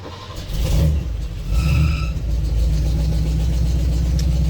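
A 1974 Ford F100 pickup with a swapped-in 5-speed and a one-wire alternator fires up, revving briefly before settling into a steady, close, rumbling idle.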